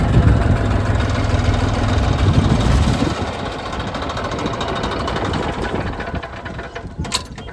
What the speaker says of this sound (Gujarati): ટ્રેક્ટર આવે